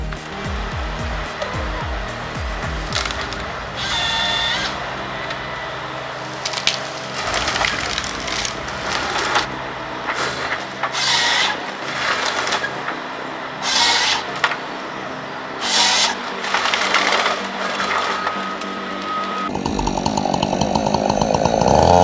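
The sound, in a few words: John Deere 688E harvester with Waratah H415 head cutting logs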